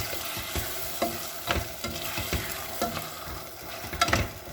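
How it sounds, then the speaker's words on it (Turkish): Potatoes stir-fry with tomato paste in a pan, a dense crackling sizzle with repeated rhythmic scrapes and stirring knocks throughout, close and fairly loud, nobody speaking. "Salça kavrulduktan sonra patatesleri ekliyorum. Biraz da böyle kavuracağım."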